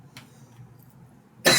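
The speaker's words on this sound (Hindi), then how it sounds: "खांसी आने लगी, मौसम चेंज हो रहा है।" A single sharp cough from a teacher giving a maths lesson bursts out at the very end after a brief quiet throat sound, close and loud with no talk.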